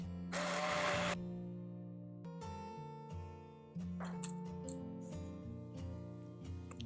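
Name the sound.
hand mixer blending potato and parsnip soup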